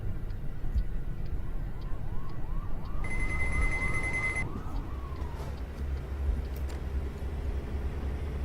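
A video game police car siren wails in rapid rising-and-falling sweeps over steady truck engine and road noise, with a high electronic tone briefly layered on top.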